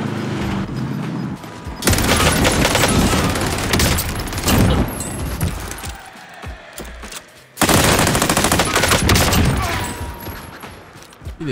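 Rapid gunfire in Call of Duty Warzone, a player's rifle set to quick fire, in two long loud bursts of dense shots with a quieter lull between them.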